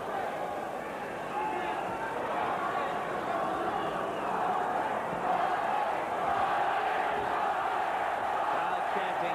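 A boxing arena crowd chants the name of Jorge Paez in a loud, sustained roar at his fight against Oscar De La Hoya, with an announcer talking over it.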